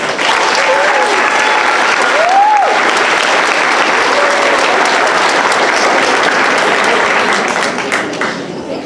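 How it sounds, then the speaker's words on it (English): Sustained, loud applause from an audience at a middle school eighth grade academic awards ceremony, a dense steady wash of many hands clapping that fades slightly toward the end, with faint voices mixed in. "Let's give them one more round of applause"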